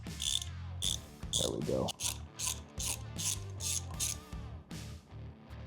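A ratchet works loose a starter bolt on a Harley Dyna, giving quick rhythmic clicking strokes in close, repeated bursts while a person briefly speaks.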